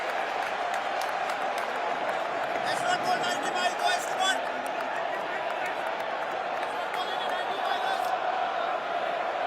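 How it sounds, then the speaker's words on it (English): A cricket crowd at Lord's during an England v India Test applauds and cheers steadily, a dense, loud wash of clapping and voices that holds throughout. "Not a full crowd by any means, but a lot of noise."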